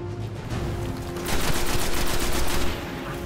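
Gunfire in the video game Destiny, a rapid stream of shots that swells louder midway and then eases back, heard alone with no talk.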